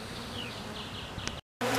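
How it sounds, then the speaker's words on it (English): Steady buzzing of honey bees close by at the end of a spring honey flow, a continuous insect drone that cuts out briefly near the end and then resumes. "I got some bees out here this year too"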